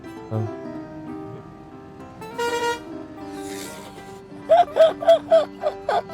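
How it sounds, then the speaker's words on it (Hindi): A truck horn gives several short honks in a quick rhythmic series near the end, after a longer tone and some quieter background sounds, during roadside hitchhiking in India. "अभी हॉर्न बजाता हूँ, हॉर्न।"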